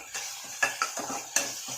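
Curry leaves sautéing in a pan for mutton soup, with a faint sizzle under several sharp metallic scrapes and taps of a spoon against the pan, close by.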